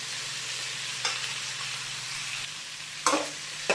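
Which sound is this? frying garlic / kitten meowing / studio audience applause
frying garlic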